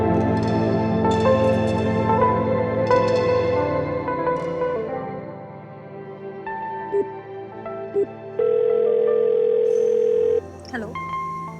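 Steady telephone ringback tone repeating on an unanswered call, a continuous electronic drone with later higher beeps, heard fairly loud beneath background music.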